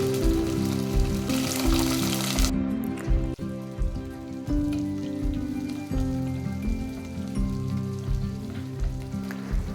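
Shallots and garlic fry in sesame oil with a tempering of spices in a pan for a South Indian curry, a close, steady sizzling crackle with occasional stirring clatters and hums beneath.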